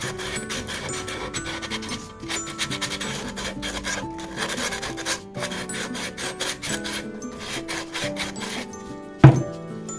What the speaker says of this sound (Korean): 안쪽에 라운드 부분은 옆으로 잡아가지고 돌리면서 이렇게 사포질 하면은 사포질 하기가 되네요